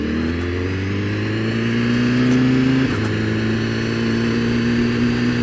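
A 2015 BMW S 1000 RR motorcycle in sport mode accelerates hard, its engine note rising steadily in pitch, dropping briefly at a gear change, then climbing again, loud and close with no talk.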